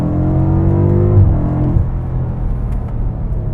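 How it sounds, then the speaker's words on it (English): A BMW F90 M5 with sports exhaust, heard up close and loud as a deep engine note that rises, then drops away into a settling rumble with no one speaking. "obviously we spec'd it with sports exhaust as well, which actually sounds really good"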